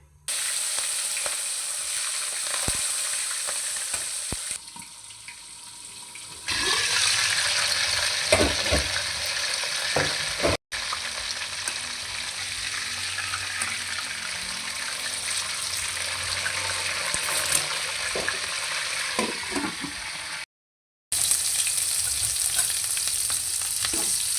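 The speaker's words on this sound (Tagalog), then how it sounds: "Ipiperito na natin tong ating inarinate." Marinated pork steak fries in a pan with a steady, close sizzle, occasional utensil knocks and shifts in intensity as the meat is moved, with brief gaps in the sound.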